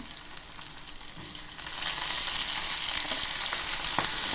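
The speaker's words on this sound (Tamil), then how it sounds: "வெங்காயம் வேகட்டும். நல்லா கோல்டன் ப்ரௌனாக வேகணும்." Onions fry in hot oil for a country chicken curry, a steady close sizzle that swells louder partway through, with faint stirring clicks and no talking.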